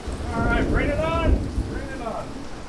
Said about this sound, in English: Big old thunderstorm!